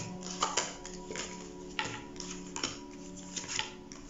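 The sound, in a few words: shuffling a deck of tarot cards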